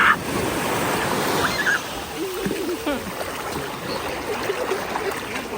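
Ocean waves washing at a beach in St. Thomas, a steady surf hiss with light splashes, while people's voices come through faintly over it.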